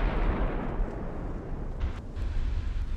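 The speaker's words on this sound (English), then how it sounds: "Another set of torpedoes out." Torpedo launch from a warship in the naval game Ultimate Admiral: Dreadnoughts, a deep rumbling, booming rush that stays loud and continuous throughout.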